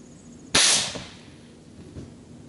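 A single loud, sharp crack from a QEV air gun firing a 5.2 g ball bearing at a laptop at 410 psi, followed by a fading rush and a faint knock of the impact.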